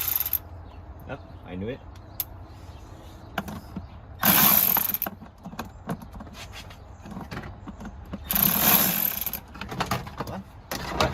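A Milwaukee power ratchet running on the engine cover bolts of a Hyundai Santa Fe, with two loud whirring bursts about a second long each, and a person's voice briefly heard between them.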